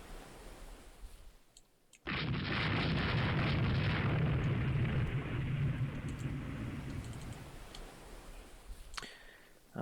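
Sustained roar of artillery fire and explosions in the battle game Rome Total War 2, a loud dense rumbling barrage that starts abruptly and holds for about seven seconds before cutting off.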